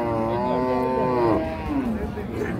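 A Holstein Friesian cow moos loudly and close by at Ambari cattle market, a long drawn-out bellow that tapers off, followed by quieter market murmur.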